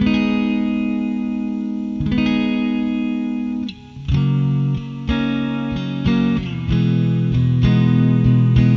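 An electric guitar plays through a Joyo Atmosphere reverb pedal with modulation, with sustained chords and notes washing into a shimmering, pulsing reverb tail. The playing is continuous and prominent, with no voice.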